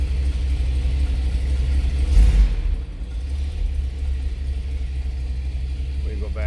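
The engine of a 1957 Chrysler Windsor two-door hardtop rumbles at a steady idle after a push-button start, with a brief surge partway through. It is close and continuous, and someone speaks briefly over it.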